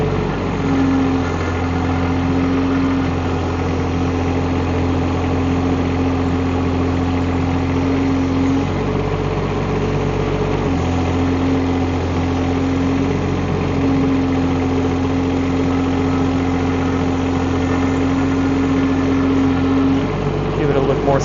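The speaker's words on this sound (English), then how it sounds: "I am moving my arm and boom and bucket at the same time." Rippa R18 mini excavator engine runs steadily at a high, even drone while the arm, boom and bucket move together, with a hydraulic whine rising and falling in long stretches and a brief dip midway.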